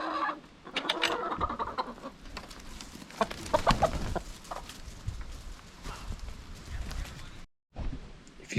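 Hens clucking inside a chicken coop with a broody hen among them, soft overlapping clucks and murmurs with a few rustles and scratchy movements, moderately close.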